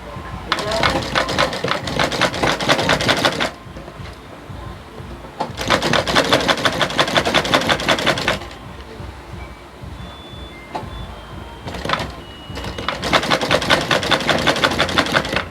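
Sewing machine top stitching a pleated peplum gown, running in three bursts of rapid, steady stitching with short pauses between, close and loud.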